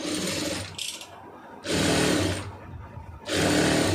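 A sewing machine stitches a plain blouse, running in two loud steady bursts of whirring with a short quieter pause between them, close up and without talk.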